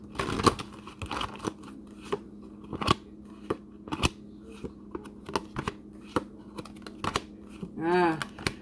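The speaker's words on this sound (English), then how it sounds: "y'all saw I shuffled the hell out of that" Tarot cards shuffled hard and fast, a run of sharp riffling flicks and slaps spread across the stretch, close and crisp, with a brief whirring riffle near the end and no talk over it.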